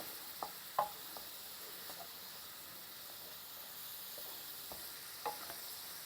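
Curry leaves stirred into softened onions in a pan for palak paneer bhurji, giving a faint, steady frying hiss with a few soft spatula clicks and taps spread across the stretch.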